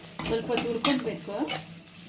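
Masala for chana masala frying and being stirred in a pan, with a steady sizzle broken by several scraping stirs of a spoon against the metal, close up and with no talk.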